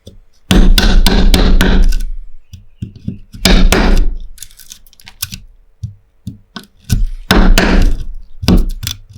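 A hammer drives a chisel into wood to cut a mortise, close sharp knocks in fast clustered bursts with pauses and lighter taps between as the chisel is repositioned.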